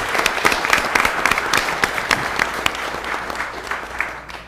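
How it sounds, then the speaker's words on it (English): A crowd at a city council meeting applauds steadily for several seconds, with dense, sharp claps that gradually thin out toward the end. "Let's give David a round of applause."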